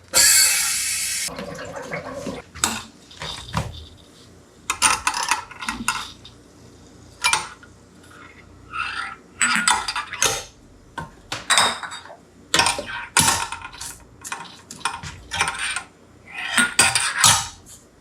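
Kombucha being stirred by hand in a brewing vessel, giving repeated scraping and clinking strokes with splashy liquid sloshing, fairly close and irregular, alone without talk.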